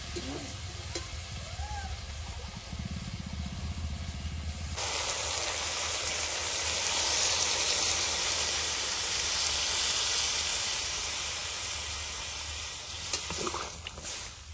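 Taro stolons fry in a pan with a low crackle until water is poured in, setting off a loud, sustained hiss of steam and sizzle that slowly fades near the end.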